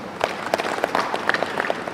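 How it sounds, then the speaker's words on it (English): Applause from an audience at a weather station handover ceremony in a hotel, a short, fairly soft burst of scattered clapping with a few louder individual claps. "Can you give him a round of applause?"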